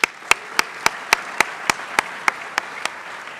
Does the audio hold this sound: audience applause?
yes